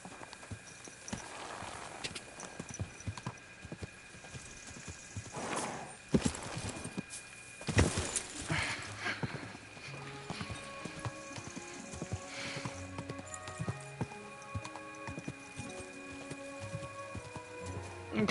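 Horse hooves clip-clop in Kingdom Come: Deliverance 2, steady and moderately near beneath game music, with occasional louder thumps and a brief whinny-like burst.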